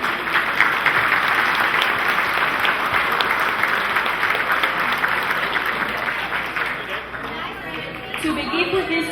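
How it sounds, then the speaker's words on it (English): Sustained applause from an audience at a Hispanic construction community association event fills the room, steady and dense, with some chatter mixed in and a slight tapering near the end. "Please let's give a round of applause to this wonderful association."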